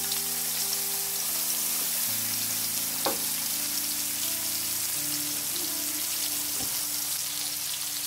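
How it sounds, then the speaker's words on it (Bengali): Chopped onions fry in leftover pangasius fish oil in a village kitchen, giving a steady, close sizzle that runs throughout, with faint tonal sounds in the background and no talking. "ভাজি করা মাছের যে তেল রয়ে গেছে তা আমি ওটার উপরে এখন রান্না করব। আমি প্রথমে দিয়ে দিচ্ছি পেঁয়াজ কুচি,"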